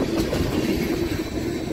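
A steady, continuous rumble of a passing southbound CSX mixed freight train with a dense low roar and faint rhythmic clatter, loud and close, no voices.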